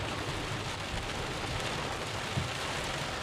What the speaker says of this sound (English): we should be out of the rain in a little bit